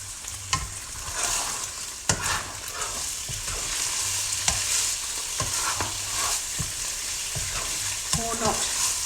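Diced beef and red onion sizzle in a frying pan, a steady crackling hiss broken by repeated sharp clicks and scrapes of stirring, close and clear with no talk.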